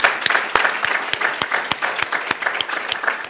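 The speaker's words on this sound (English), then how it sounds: "let's give all of these wonderful recipients a round of applause" An audience applauding award recipients at a grants event, a dense, lively burst of many hands clapping that continues steadily without letting up.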